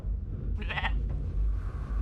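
A short sheep bleat in the video game D-Extinction rises over a steady low background hum, a single wavering call lasting under half a second.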